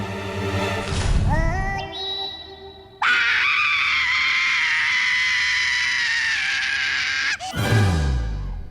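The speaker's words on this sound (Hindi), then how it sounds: "ये कौन चीखा?" A loud, sustained human scream rising in pitch and holding for several seconds, preceded by a shorter strained cry and ending with a groaning drop, heard alone without speech.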